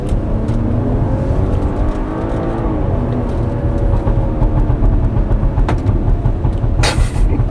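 BMW 7 Series with a B58 inline-six engine, revving hard with a dense roaring drone and crackling pops and bangs from the exhaust, loud and close throughout.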